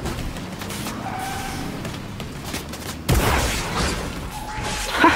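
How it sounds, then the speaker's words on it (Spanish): Car in Fortnite gameplay slamming into a player, a sudden loud impact with a skidding crash partway through, over continuous engine and game background noise. "Te aventaron con el carro."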